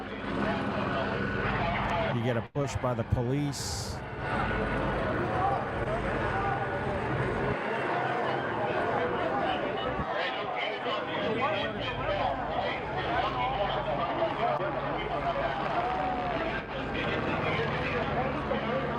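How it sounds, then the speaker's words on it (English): A helicopter's steady rotor roar fills the scene throughout, loud and continuous, while a person talks over it. "Helicopter came through"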